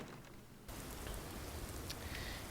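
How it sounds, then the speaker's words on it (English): Steady rain in the Fallout 4 video game, a dense even patter that starts abruptly after a brief quiet moment and continues without break, with no voices over it. "And of course it's raining."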